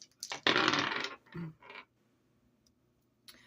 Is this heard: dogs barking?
no